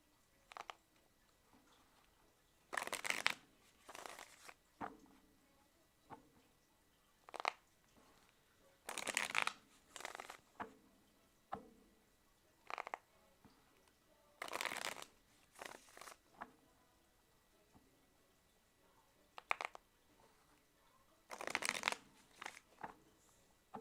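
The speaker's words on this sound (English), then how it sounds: "just tell me when to stop shuffling" A deck of tarot cards is shuffled in repeated short riffling bursts, each a second or two long, separated by quiet pauses, close and fairly soft with no talking.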